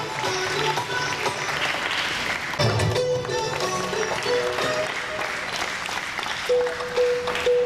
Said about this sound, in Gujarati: આપણે સૌ તાળીઓના જોરદાર ગુંજારો ઉઠ્યા ક્ષણને વધાવીએ